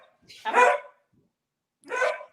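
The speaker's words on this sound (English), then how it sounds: "I don't know why my dog's barking at me right now." A dog barks twice at close range, two loud separate barks with a short gap between them and nothing else heard.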